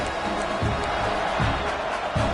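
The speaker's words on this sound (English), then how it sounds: "This crowd bringing the energy and noise early." Crowd noise fills a college football stadium during a Michigan State vs Texas A&M game, a steady broad roar with low surges rising and falling roughly every second.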